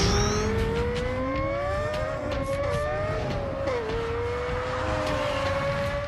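Lexus LFA race car with the Nürburgring package and its retuned 571-horsepower engine, running loud and steady throughout with a shifting engine tone as it holds speed, no voices.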